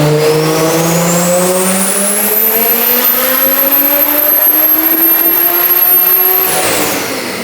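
A big-turbo BMW revs hard on a dyno, its engine pitch climbing steadily in one long, very loud pull with a high turbo whine before dropping off at the end, no talking.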